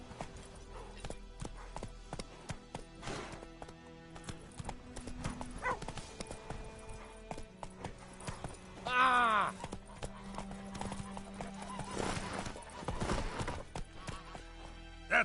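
Roach the horse trots along a road in The Witcher, steady clip-clop hoofbeats under game music and voices, with a brief whinny partway through.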